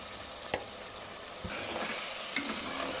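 Chicken for chicken tinda curry roasts in a pan with dried coriander and red chilli powder: a steady soft sizzle, punctuated by a few distinct spoon knocks and stirring scrapes, close, moderately quiet and without speech.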